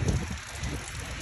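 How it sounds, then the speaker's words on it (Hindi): Heavy rain falls steadily, a dense, even hiss with low rumbling wash, loud and continuous throughout, with no voices. "देख लो बहुत ज़्यादा तेज़ बारिश हो रही है"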